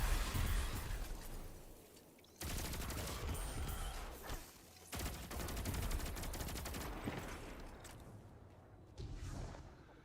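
Rapid bursts of automatic rifle fire in a video game, loud, dense and continuous, broken by brief pauses between volleys, with whooshing effects around them.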